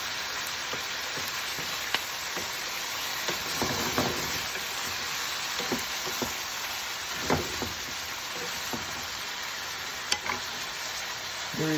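Venison and onions sizzle steadily in a hot stir fry, a dense continuous crackle with occasional louder pops and stirring scrapes, close and without talk.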